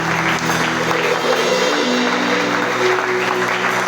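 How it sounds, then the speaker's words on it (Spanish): A church congregation claps loudly and steadily, a dense continuous wash of applause from many hands filling the room, with faint voices mixed in beneath. "Aplaude con fuerza, hermano."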